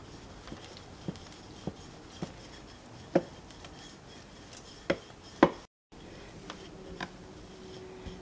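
Filled snack dough is flattened gently with a wooden chapati rolling pin, giving sparse, irregular light knocks and taps against the board over quiet kitchen background, with no talking.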